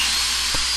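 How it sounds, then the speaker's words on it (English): A drill bores into a hardened Alumaloy aluminum rod repair that has air-cooled, giving a steady, bright, high-pitched whine with a hissy edge and one short low thump near the end, close and alone. "and we go ahead and drill"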